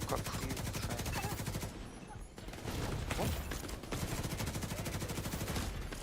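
Rapid automatic gunfire from enemies in The Division 2 rattles almost continuously, loud and close, with brief lulls between bursts and a player speaking underneath.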